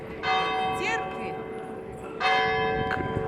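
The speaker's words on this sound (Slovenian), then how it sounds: "Kjera ura zvoni? Poldne, ne?" Church bells ring out at noon in a seaside Italian town, two clear resonant strikes sounding a couple of seconds apart, each leaving a long humming decay over faint outdoor background noise.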